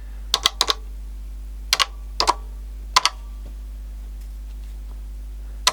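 Calculator keys being pressed on a Toshiba BC-0802, four short clusters of crisp plastic clicks at close range, two or three taps each, followed by near silence over a low steady hum.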